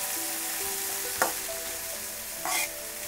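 Oil fries steadily in a pan for tamarind leaf chutney, a soft continuous sizzle broken by two brief louder bursts of stirring or added ingredients, close and with no voices.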